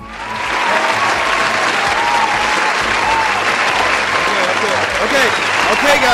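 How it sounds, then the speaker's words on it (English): Loud, sustained applause from a crowd, clapping rising quickly and holding steady for several seconds. "Give alien a round of applause."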